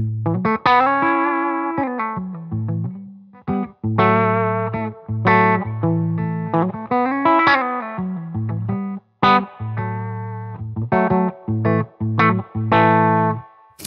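A loud, fuzzy distorted electric guitar through a Rare Buzz Effects Fuzz Bob-omb pedal into a Benson Amps Monarch Reverb amp plays a melodic riff of sustained notes and chords, thick and saturated, with no voices.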